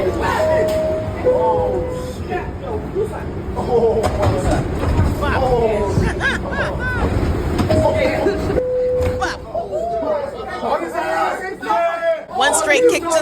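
A subway train rolls along its rails with a continuous low rumble and rattle, overlaid by two repeated electronic tones, while people argue and shout loudly over it.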